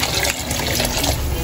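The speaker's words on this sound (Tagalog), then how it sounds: "Lalagyan ko na rin po ng tubig." Water poured into a pot of chicken sotanghon soup, a loud, continuous splashing gush that holds steady for its short length.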